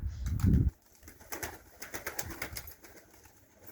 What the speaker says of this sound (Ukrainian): Голуба кинув, корму сипнув і вони тоді починають одразу сідати.